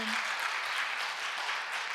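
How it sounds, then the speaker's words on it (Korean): A church congregation gives a brief burst of applause, a steady patter of clapping heard at a moderate distance. "우리 박수 한번 해주시기 바랍니다"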